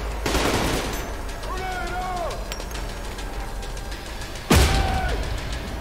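Soldiers fire guns in a brutal combat video game, with bursts of gunfire running steadily under voices and a sharp loud shot near the end.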